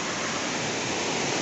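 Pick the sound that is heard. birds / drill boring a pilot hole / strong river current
strong river current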